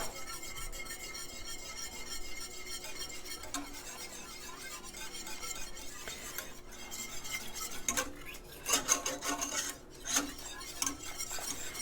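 Raw milk fudgsicle mixture with maple syrup is whisked steadily in a pot over low heat, a continuous scraping and clinking of the whisk against metal, close and fairly quiet, with a few louder knocks near the end.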